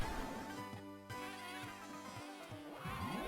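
A 1920s-style cartoon bee in Wario Land 4 buzzes as a steady, faint, tonal drone with a pulsing rhythm, running alone throughout.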